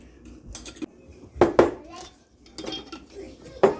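A spoon clinks and scrapes against a bowl while stirring apple pie filling, with irregular sharp knocks and clatter, close and fairly loud, amid quiet kitchen background.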